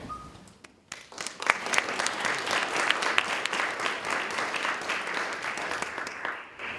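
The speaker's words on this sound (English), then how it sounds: "Applause, wow." A community meeting audience greets a speaker with applause, starting faintly then breaking into a full, dense burst of clapping that stays strong before tapering off.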